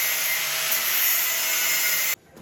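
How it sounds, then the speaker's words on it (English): Steady, harsh broadband crackle of a welder tacking a nut onto a homemade steering chassis, loud and continuous for about two seconds before cutting off abruptly to quieter background. "Weld this nut onto the chassis,"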